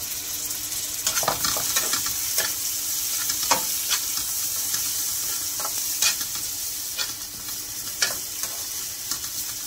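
Black and white cumin seeds tempering in hot oil for a vegetable khichdi, a continuous close sizzle and crackle with occasional stirring scrapes, no voices.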